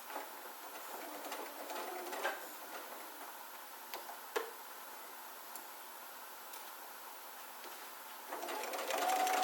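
Sewing machine stitching down quilt pieces for quilt-as-you-go stitch and flip, a quiet rapid ticking run of stitches with a few louder clicks, steady and close, and a whir at the end.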